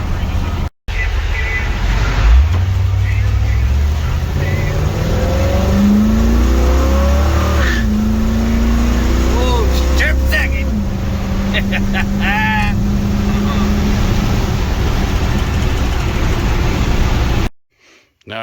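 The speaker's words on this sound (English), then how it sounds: "There goes the last ride with the old motor in it." A Chevy 3100 truck with its old motor drives hard and smokes its tires, giving a loud engine roar with rising and falling revs, brief squeals and rattles, and voices speaking over it.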